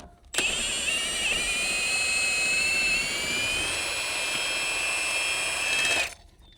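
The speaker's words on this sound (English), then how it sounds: "with that, we can lower our jack" An AGM scissor jack is lowered under a Polaris Xpedition side-by-side, giving a steady, fairly loud high-pitched power-tool whine that runs about six seconds with a slight pitch wobble, then stops abruptly.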